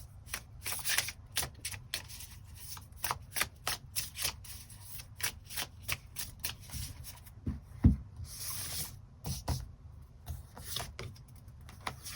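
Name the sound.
tarot cards being shuffled and drawn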